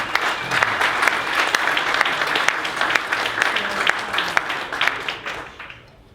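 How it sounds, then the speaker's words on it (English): An audience at a seminar on opportunity zones applauds a guest speaker, dense sustained clapping from many people at moderate distance that tapers off at the end. "So please give a round of applause for a very esteemed man."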